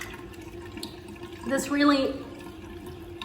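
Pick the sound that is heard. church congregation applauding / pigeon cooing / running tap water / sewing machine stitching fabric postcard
running tap water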